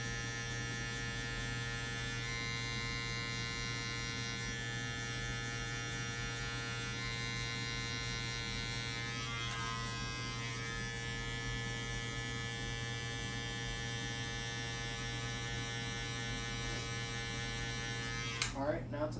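Electric hair clippers fitted with a one guard cut hair during a mid taper, giving a steady close buzz throughout with a brief clatter near the end and no talking.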